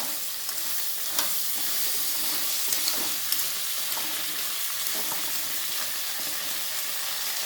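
Crabs fry in a pan for a spicy crab curry, giving a loud, continuous sizzle and spatter with scattered sharp pops throughout, close up and with no talk.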